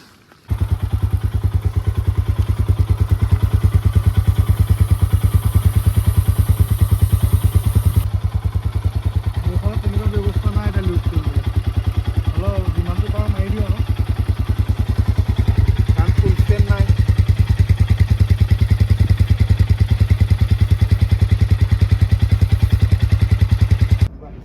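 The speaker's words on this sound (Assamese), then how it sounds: "চেইনে চাউণ্ড দি আছে, সেইকাৰণে ভাবিছোঁ চেইনটো লুপ কৰি দিওঁ।" A motorcycle with a noisy chain rides along a mountain road, its engine droning steadily and loudly with a constant rattling clatter throughout, while a rider's voice talks over it.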